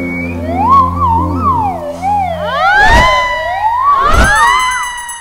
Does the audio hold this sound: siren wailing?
yes